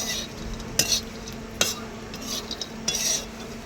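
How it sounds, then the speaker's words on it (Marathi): Grated coconut dry-roasting in a pan for a traditional black masala, stirred with a spatula: soft scraping and light sizzle with a few distinct utensil knocks against the pan, close and fairly quiet. "इथं खोबरं पण चांगलं भाजायचं आपल्याला"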